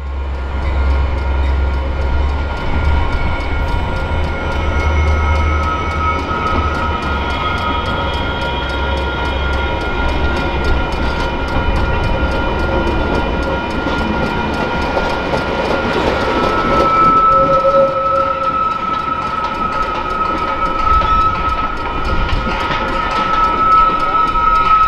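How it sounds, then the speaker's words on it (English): Metra commuter and Amtrak trains rolling along a triple-track main at Canal Street in downtown Chicago during evening rush hour, a steady loud rumble with clattering wheels and a sustained horn-like tone, no talking. "we're at Canal Street to watch the Metra and Amtrak action."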